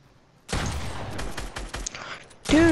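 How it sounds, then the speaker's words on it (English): Video game gunfire in a one-on-one match: a sudden loud burst of rapid shots starting after a quiet moment, continuing in clustered volleys, then another close burst at the end. "No, I'm shooting at you."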